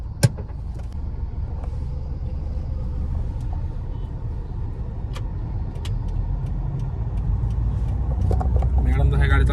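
A car cruises along a highway on the road around Mahabaleshwar, a woman at the wheel, with a constant low engine and tire rumble from inside the cabin and a few faint clicks and knocks.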